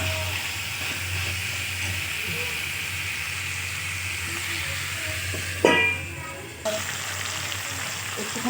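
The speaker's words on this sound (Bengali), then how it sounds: "এখন একটু ভালো করে মাংসটাকে কষিয়ে নেব, একটু ঢেকে ঢেকে।" Meat being sautéed in a pan on a gas stove, a steady frying sizzle and hiss running throughout, with a brief clatter as a lid or utensil is handled near the end.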